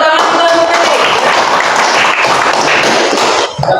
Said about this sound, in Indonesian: Ya, tepuk tangan untuk Ferry.